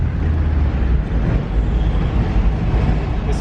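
A 1971 MGB GT engine droning steadily while the car drives along, a low constant rumble with road and wind noise, no talking over it.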